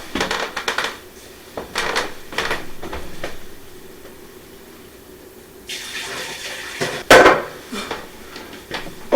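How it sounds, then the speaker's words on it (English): Vegetables strained out of beef broth through a kitchen strainer: pouring liquid, sloshes and a long running splash, with clinks of metal pots and utensils between bursts. "I've got a strainer here, so I'm going to go ahead and strain the vegetables out"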